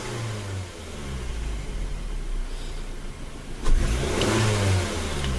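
A car engine, tied to a vehicle with an FNR5 transmission, idles and then revs hard at wide open throttle, a close, rising roar that peaks mid-clip and holds briefly before easing back.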